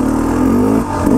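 A KTM 300 XCW two-stroke dirt bike revs hard for a wheelie in winter, one loud continuous climbing engine note that dips briefly near the end, close up with no talk.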